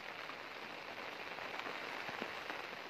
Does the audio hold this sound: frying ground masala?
no